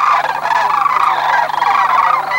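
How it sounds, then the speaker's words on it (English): A dense chorus of rolling, trumpeting calls from a large flock of sandhill cranes overlapping continuously, loud and close. "The noise that they make when they all fly over in mass like that is just awesome"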